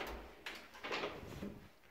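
An interior door of an old house swings open into a small larder, giving a short, close creak and a muffled knock in a quiet room.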